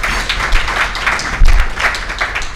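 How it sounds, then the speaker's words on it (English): An audience applauds at a corporate investor briefing, with steady dense clapping throughout and a brief swell midway. "Please give them a hearty round of applause."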